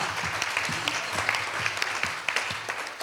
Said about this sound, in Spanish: démosle un cálido aplauso